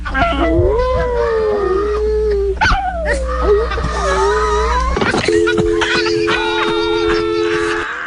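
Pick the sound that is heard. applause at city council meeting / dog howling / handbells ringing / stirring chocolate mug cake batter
dog howling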